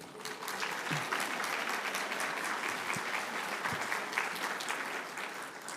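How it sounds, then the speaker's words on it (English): A seated audience applauds singers at the opening of a Squamish Nation 'Loving Justice' gathering, with dense, steady clapping that stays loud and even throughout. "Round of applause for our beautiful singers."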